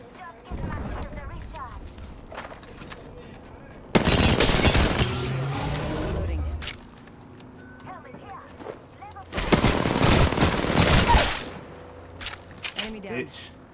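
Video game battle royale gunfire, two long loud bursts of rapid shots with quieter scattered shots and background game sounds in between, close and dominant.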